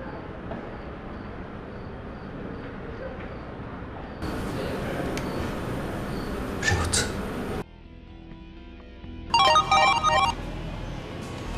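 Outgoing phone call ringing, a repeating electronic ring tone that plays over changing background noise, with a bright burst of ringing near the end.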